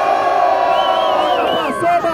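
A crowd cheering and whooping at a street rap battle, loud and sustained, with rising shouted voices that swell near the end.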